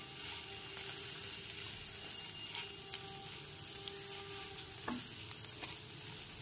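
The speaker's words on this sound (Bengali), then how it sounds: "ধনেপাতা কুচিটা মশলার সাথে ডিমের সাথে খুব ভালো মতো মিশিয়ে নিচ্ছি" A spoon stirs chopped coriander into a spiced egg mixture in a pan over a low to medium gas flame. The scraping is soft and steady over a quiet, continuous sizzle, with a few sharper clinks.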